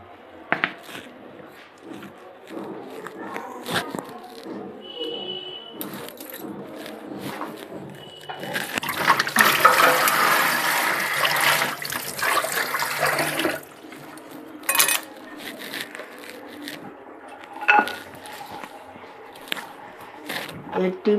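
Water splashes and swishes for several seconds as chopped leafy greens are dipped and stirred in a bowl of salted water in a home kitchen, with handling noises and brief clatter before and after.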